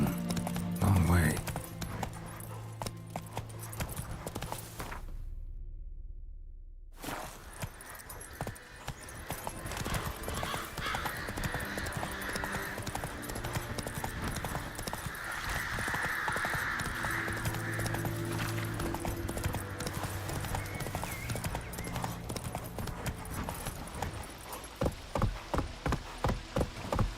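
Roach the horse galloping in The Witcher 3, hooves clip-clopping in a steady rhythm through most of the stretch, with a short silent gap early on and a voice talking over parts of it.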